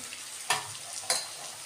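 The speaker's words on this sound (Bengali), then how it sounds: "এখন এই মিটুলিগুলোকে এর মধ্যে অ্যাড করে দিচ্ছি, দিয়ে আবারও ভালো করে নেড়ে চেড়ে একটু ঢাকা চাপা দেবো" Malabar spinach stems sizzle as they are tossed into shrimp frying in a pan for a Bengali chorchori, with two sharp stirring scrapes over a soft continuous hiss.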